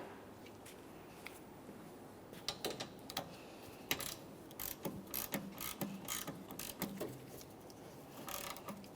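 A ratchet snugs up a bolt on a 1994-1997 Honda Accord window regulator: quiet, irregular runs of small close clicks over a low background hiss.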